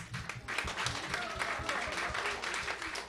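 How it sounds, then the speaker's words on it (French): Applause from a live audience, a steady wash of many hands clapping at moderate distance, fairly faint and sustained for a few seconds with some vocal murmur mixed in. "On l'applaudit encore, mesdames et messieurs."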